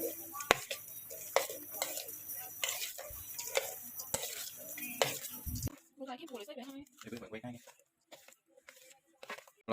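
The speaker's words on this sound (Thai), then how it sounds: "เรามาคลุกเข้าให้เข้ากัน" A spoon stirring and scraping through horseshoe crab egg salad with onion and chili in a bowl, rhythmic clinks and wet mixing, followed by softer squelching, with someone talking over it.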